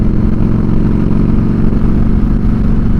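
A Harley-Davidson Fat Boy styled like a Road King cruises along with a loud, steady, low engine drone that holds constant throughout, close to the mic, with no talking.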